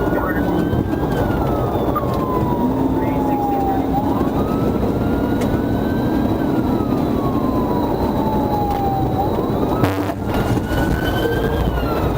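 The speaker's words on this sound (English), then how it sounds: "When Torres activated his lights and siren near the 125-mile marker" A police car siren on a high-speed chase wails in slow rising and falling sweeps over steady road and engine roar, loud and close throughout.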